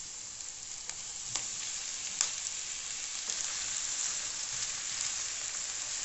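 Minced chicken and onion fry in a pan with a continuous close sizzle, broken by occasional sharp taps and scrapes of stirring.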